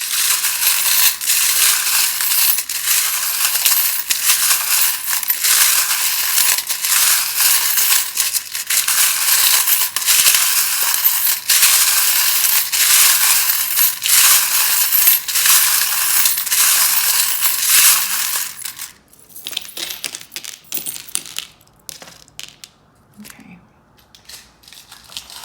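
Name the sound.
shuffling tarot cards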